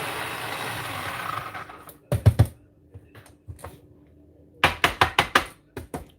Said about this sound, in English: I just have this little personal food processor that I use.